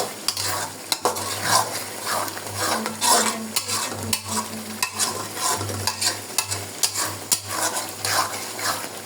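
Chicken curry masala fries in oil in a pot under close, loud stirring, with repeated scraping and clinking of a spoon against metal over a continuous sizzle.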